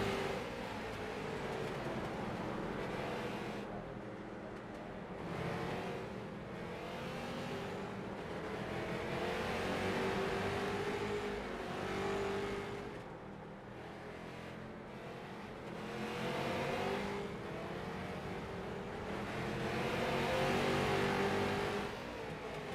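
Race cars battle for third place in a figure 8 race, their engines revving loudly and swelling and fading as they circle the track. The roar rises and falls in waves with no speech over it.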